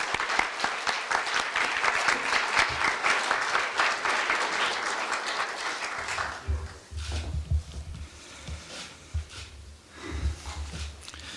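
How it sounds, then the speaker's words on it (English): Audience applause welcoming a university president at a special lecture on the Korea University campus. Dense clapping fills the hall for about six seconds, then thins into scattered claps with low rumbling handling noise. "Let's welcome President Yum with a round of applause."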